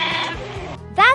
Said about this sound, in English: Sheep say baa, baa.